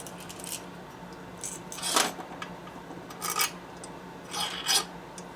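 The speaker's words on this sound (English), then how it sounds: "Burr on the edge. Burring tool." A burring tool scrapes a burr off the edge of an engine part from a 1972 Harley-Davidson XL Sportster 1000cc ironhead motor, several short, close rasping strokes over a quiet workshop background.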